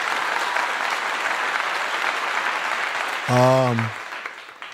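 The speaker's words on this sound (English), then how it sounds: "Give you a clap." Applause from an audience at a live talk, a steady wash of clapping throughout, briefly joined by a short burst of voice near the end.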